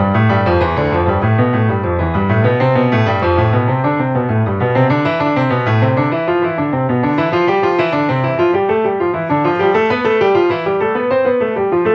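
Piano running through a Hanon exercise in even rolling notes, swelling louder across one bar and fading over the next in a two-bar wave, played close and alone without talk.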